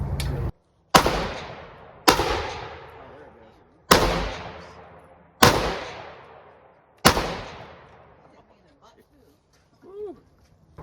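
A Gilboa Snake double-barrel rifle fires both 5.56 rounds at once, again and again: six sharp, loud, close blasts, each trailing off in a long echo, then brief quiet and a short voice at the end.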